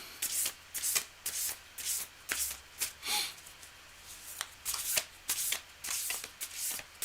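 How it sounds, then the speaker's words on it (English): Tarot cards are shuffled by hand in repeated riffling bursts, close and crisp, each burst followed by brief pauses in a quiet room. "I nicely shuffled as well as I can."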